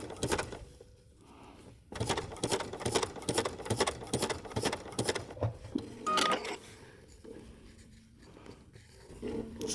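A Bernina sewing machine runs stitch 449 on a wool applique leaf, giving a steady rhythmic whirr of needle strokes that pauses briefly near the start and again partway through.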